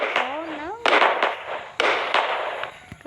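Fireworks and firecrackers bursting in the mobile game Fireworks Play, a whistling rise followed by several sharp crackling pops in quick succession, loud and near.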